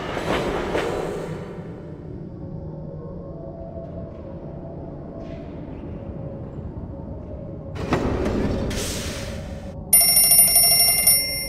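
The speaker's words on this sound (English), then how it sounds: "It's only an alarm clock." An alarm clock rings in the Thomas Saves the Day video game, a bright metallic ringing that bursts in loudly near the end after quieter rumbling and clattering game sounds.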